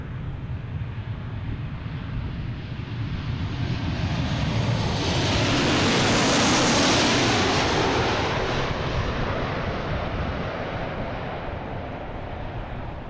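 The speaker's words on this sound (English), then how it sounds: "We got a JetBlue taking off here" A JetBlue jet airliner taking off at Boston Logan International Airport, its engine roar swelling to a loud peak as it passes and then slowly fading, with no voices.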